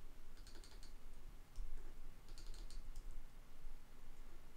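Quiet clicky typing on a computer keyboard during CAD and coding work, scattered short bursts of keystrokes with brief pauses, close and alone.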